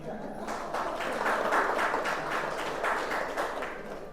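An audience at a Bhagavad Gita lecture breaks into sustained applause, a dense wash of many hands clapping that swells and holds steadily for several seconds.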